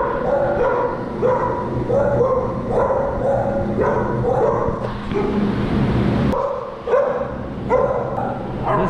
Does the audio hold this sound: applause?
no